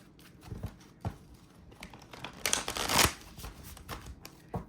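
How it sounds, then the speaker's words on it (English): Tarot cards being shuffled by hand, a close riffling and flicking in several irregular bursts, with the loudest, densest flurry near the end and soft gaps between. "Do a little shuffling."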